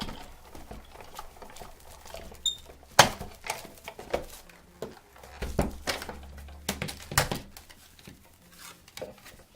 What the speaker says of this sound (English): put it open end first, and then the top cutting plate over top of that, and then run it through the Big Shot